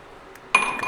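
Ground fennel seeds tip into a copper vessel with a sudden clinking, rattling pour after a quiet stretch, close and fairly bright.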